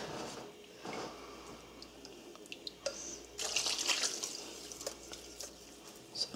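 Tap water running into a bowl while rinsing out moose summer sausage mix at home, a steady splashing stream with brief drips and a louder gush midway, close and without talk.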